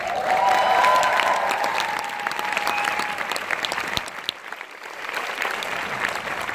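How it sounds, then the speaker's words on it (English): Audience cheering and applauding, a sustained burst of clapping with whistles and shouts near the start that gradually thins and softens. "I wanted you to cheer for yourself a little bit."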